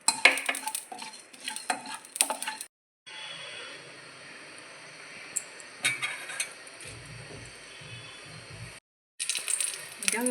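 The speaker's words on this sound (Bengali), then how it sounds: "এই শুকনো মশলা যেগুলো, ধনে, জিরে আর হচ্ছে মৌরি, এগুলোকে একটু শুকনো খোলায় ভেজে নেব।" Coriander, cumin and fennel seeds are dry-roasted in a hot pan, with a spatula scraping and rattling in bursts around a quieter stretch of faint low sound.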